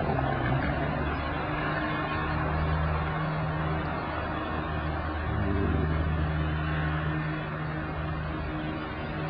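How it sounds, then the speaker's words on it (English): Busy road traffic near UMKC rolls past in a continuous, fairly loud wash of engine and tyre noise, with a low motor hum running steadily underneath and no pauses. "there's a lot of traffic, a lot of noise"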